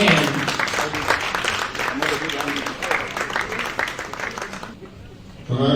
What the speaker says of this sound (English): let's give a round of applause to encourage him